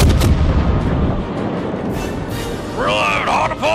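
Heavy warship guns firing in the video game World of Warships, with a loud booming blast at the start and a rumbling tail, followed by a voice talking near the end.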